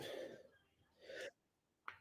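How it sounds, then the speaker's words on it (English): A single sneeze, a short breathy intake followed by a sharp burst and a small click, quiet and close in an otherwise still room. "I'm gonna sneeze."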